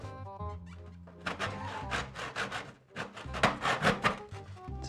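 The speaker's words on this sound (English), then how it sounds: "I am going to grate some bread." Stale bread being rubbed back and forth on a metal grater to make fine crumbs for a Norwegian dessert, a run of rough rasping scrapes that starts slowly and then quickens into steady strokes, loud and close, with no talk.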